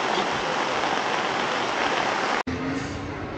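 Steady rain falls hard at the Le Vigeant race track, a dense, even hiss that cuts out for an instant before resuming slightly softer.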